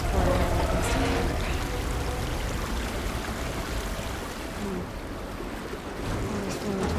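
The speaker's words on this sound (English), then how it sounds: "Water's flowing towards the drain." Water gushes steadily from a tank in Horizon Forbidden West, a dense continuous rushing pour that stays fairly loud and even throughout with no break.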